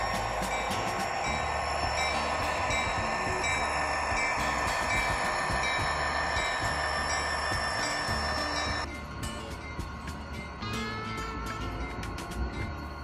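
A freight locomotive on a Wisconsin Central local pulls away from a power plant siding after a tank car is uncoupled, a steady loud rumble of engine and rolling cars with squeal and clanks, easing slightly near the end.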